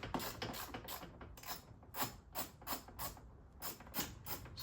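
Ratchet removing bolts from a 2010 Suburban LTZ driver door: steady, rapid close ratcheting clicks in repeated bursts, about a dozen strokes with brief pauses between them.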